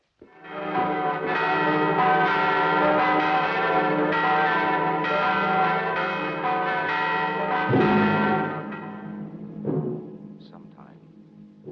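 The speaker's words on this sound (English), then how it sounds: "Now is the time to ring the bell." A large bell rings in a drama set in the time of the Borgias, a dense, sustained peal with heavy overlapping tones that holds for about eight seconds, then thins and fades with a few last loose strikes.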